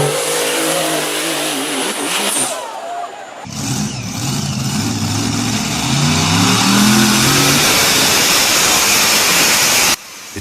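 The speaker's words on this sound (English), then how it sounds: "The wheels bite into the ground, the engine screams, and the sled, that immovable weight, begins to creep forward" Tractor pull engine screaming under load while dragging a heavy sled, a loud, close, sustained roar that rises in pitch after a brief break, with revving changes and constant rumble.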